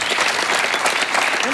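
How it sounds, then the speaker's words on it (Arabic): Loud, dense applause from a studio or stage audience fills the whole moment, steady and unbroken with no voices on top. "تصفيق كبير"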